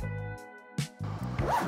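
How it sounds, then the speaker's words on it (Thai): A two-way zipper on a workwear jacket is run quickly in a few short strokes, close and crisp, with brief pauses between the pulls. "ซิปเป็นซิป 2-way นะครับ"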